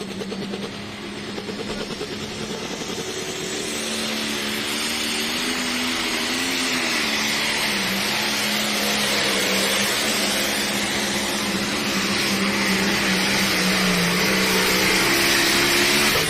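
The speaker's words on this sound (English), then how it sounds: "You can really hear the RPM of these 540 cubic inch power plants really turning some R's" Several 540 cubic inch Light Pro race engines scream at high RPM at a Rock Valley, Iowa pulling event. The loud, sustained roar wavers in pitch and builds steadily over the clip, with no voices audible.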